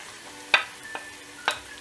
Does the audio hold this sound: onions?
yes